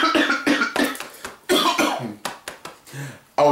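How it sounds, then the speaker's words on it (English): A man coughs repeatedly in harsh, loud bursts close up, several hacking coughs in quick succession with short gaps, ending in throat-clearing rasps. "I was really coughing because that joint's strong"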